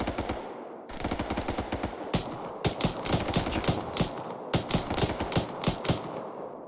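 Sustained machine gun fire in the military shooter game Arma 3, dense rapid bursts from several weapons with loud sharp cracks, continuous and close with no voices over it.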